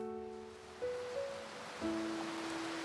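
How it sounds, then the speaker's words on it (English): Waterfall in the video game Little Witch in the Woods: a steady, soft rushing wash of water runs throughout beneath gentle sustained melodic tones that shift pitch a couple of times, with no talking. "The waterfall sound is lovely."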